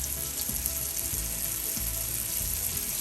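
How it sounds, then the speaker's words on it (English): Butter sizzling and frying in a hot pan alongside searing meat, a steady loud hiss with faint crackles and low scraping as it is moved around, no voices. "We're going to add about 1/4 stick of butter to the pan."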